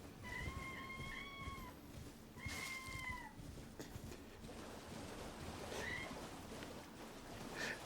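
Cat lying on its back, meowing: two drawn-out meows near the start, then fainter mewing later, over a steady rushing background noise.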